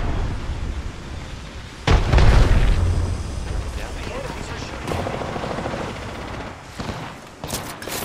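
Gunfire and explosions in a video game: a sharp loud blast followed by bursts of shots and impacts, with several more bangs later, while a voice calls out over the action.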